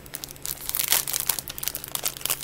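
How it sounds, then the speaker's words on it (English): Plastic pouches from a mystery bag crinkle and rustle as they are pulled open, a dense run of crackling bursts peaking near the middle, close and fairly loud with no talking. "let's open these pouches"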